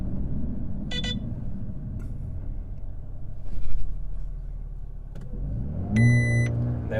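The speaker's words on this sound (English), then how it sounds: "So we're just going to get into position to launch, and then we're going to stop there, activate race launch control," A 2020 Mercedes-AMG A35 sedan sits in race launch control, its engine rumbling steadily and swelling twice, with short electronic beeps sounding near the start and end.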